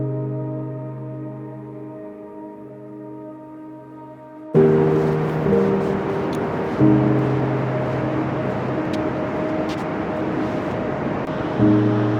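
Ocean waves rolling onto a beach in Jersey; a steady low mechanical hum plays alone at first, then a loud broadband surf wash rushes in and continues with swelling surges.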